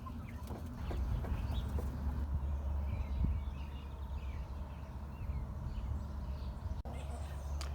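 Backyard chickens with roosters and cockerels clucking and calling in scattered bursts at moderate distance, while a person talks steadily over them outdoors.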